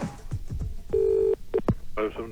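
A telephone number is dialed with a quick run of touch-tone beeps, one long steady tone and several short ones, close and clear, mixed with faint clicks and handling noise and no speech.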